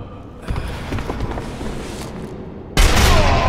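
Gunfire in the video game Sniper Elite 2, a burst of close, loud shots with mechanical clatter and a sharp, heavy blast near the end, with no talking.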